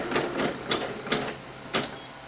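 Singer Legacy SE-300 embroidery machine stitching a design, a mechanical whir with a few repeated louder bursts of needle clatter at close range, no talking.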